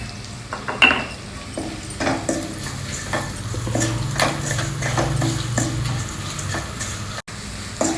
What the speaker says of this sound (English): Fry the onions lightly.